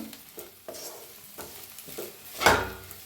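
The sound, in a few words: stirring okra while frying in pan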